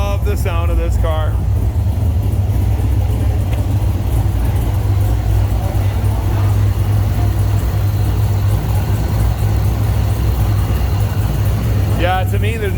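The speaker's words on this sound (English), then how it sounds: "there's nothing better than the chop of a big 7-liter V8" A Corvette Z06 with a big 7-liter V8 runs with a steady, loud rumbling idle, with people talking over it throughout.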